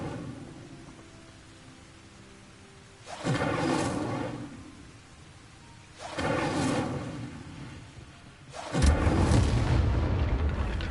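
Incendio fire spell in Hogwarts Legacy on PS5: three separate booming fiery blasts, each a broad roaring burst lasting about a second, the last one the loudest and deepest, with quieter game ambience between them.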